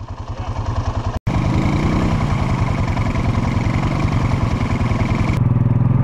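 A Swamp Cat off-road vehicle's engine chugs steadily and loudly in four-wheel drive along a soft forest trail, a rhythmic mid-pitched pulse with a brief cut near the start and a rising tone later.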